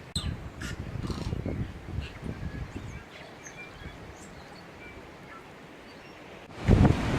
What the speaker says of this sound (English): all I can hear is random squawks and clicks and things like that from birds